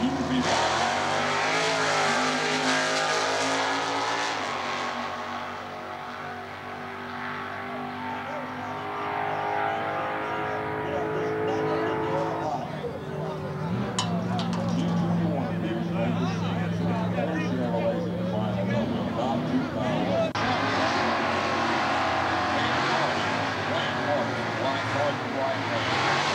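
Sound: Camaro Super Stock 396 drag race car racing

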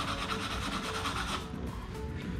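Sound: sanding a coaster cutout with fine sandpaper

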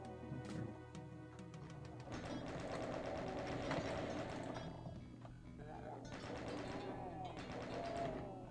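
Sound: gunfire in the video game Doom 2

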